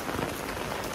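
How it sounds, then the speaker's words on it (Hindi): Heavy rain falls in Barcelona, a dense, constant hiss of drops striking surfaces up close, with no voices present. "फुल तेज़ बारिश हो रही है"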